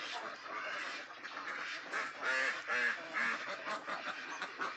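Yi Liang ducks on a Thai duck farm: a flock quacking in repeated nasal bursts, several birds overlapping at moderate distance, fairly faint, with no talk.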